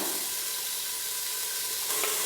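Steady, bright sizzling of finely chopped onions frying in hot oil for mutton curry, a constant crackly hiss with no voices.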